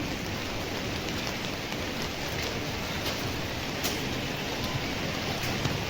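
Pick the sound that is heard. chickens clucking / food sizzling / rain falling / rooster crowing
rain falling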